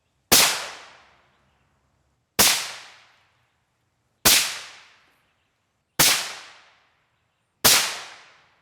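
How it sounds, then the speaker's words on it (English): Five suppressed .223 Remington rifle shots through a Turbo T3 suppressor, firing Scorpio 55-grain FMJ from a 22-inch 1-in-9 twist barrel at 100 yards: sharp, loud cracks spaced about two seconds apart, each trailing off in a short decay. "we'll fire a few rounds from our Turbo T3."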